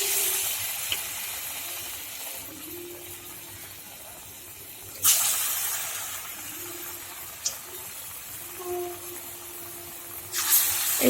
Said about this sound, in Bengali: এবারে আমি ফুলুরিগুলো ভেজে নেব